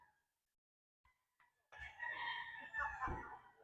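A Red Kelso gamecock on a game farm crows once, a loud, close, drawn-out cock-a-doodle-doo following a few soft clucks and near silence.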